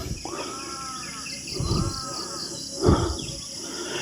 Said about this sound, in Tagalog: Yung busis ng uwak hindi ordinaryo po.